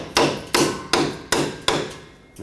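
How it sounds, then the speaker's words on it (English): A small hammer taps a stuck rear brake wheel cylinder on a 1995-2004 Toyota Tacoma, giving five sharp metallic strikes at a steady, unhurried rhythm, close and loud with short ringing decays. "Grab a little hammer. If yours is stuck, tap the wheel cylinder."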